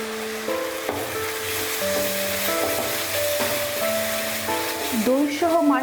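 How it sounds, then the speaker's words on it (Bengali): Spices fry with a splash of water in a pan for a Katla fish kalia curry, giving a steady, moderate sizzle that runs underneath prominent tonal background music throughout. "হালকা জল দিয়ে আমি 30 থেকে 40 সেকেন্ড পর্যন্ত এটা ভাজবো।"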